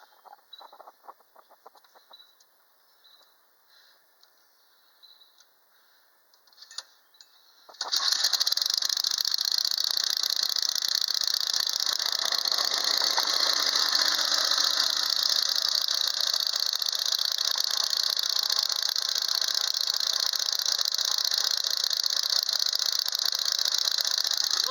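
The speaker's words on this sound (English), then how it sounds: "try to crank this with the new belt on, the new RUBE GOLDBERG belt" A 1946 David Bradley walk-behind tractor engine fitted with a makeshift new belt: a few quiet cranking rattles, then the engine catches at about eight seconds and runs loud and steady up close for the rest.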